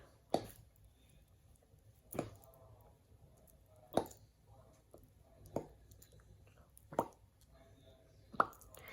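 A voice imitates a lure plopping into water: six wet popping sounds spaced about two seconds apart, close and fairly loud against quiet.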